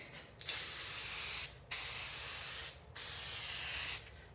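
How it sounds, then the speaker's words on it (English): An aerosol can sprays headlight restoration coating in three long, steady hissing bursts, each about a second long with short pauses between, close and clear. "I'm going to give her a spray."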